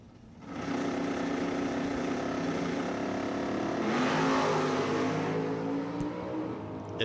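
A COPO Camaro drag racing car with a Patterson-built engine roars steadily at close range, its tone climbing and swelling as it pulls hard down the strip, with no talk over it.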